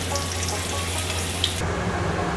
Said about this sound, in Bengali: আলুগুলো ভেজে তুলে নেব। একটু লাল লাল করে দুপিঠটা ভালো করে ভেজে নেব।